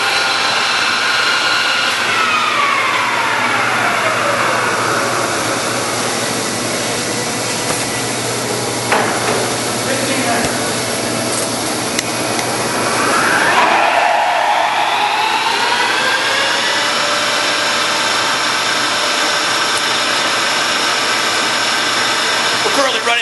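A large American engine lathe, 21.5 by 102 inches, running at 1500 RPM, giving a loud steady machine whine and hum that shifts pitch partway through, with a brief clunk in the middle.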